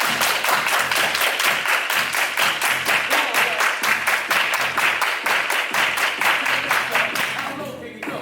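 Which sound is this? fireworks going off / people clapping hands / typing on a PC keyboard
people clapping hands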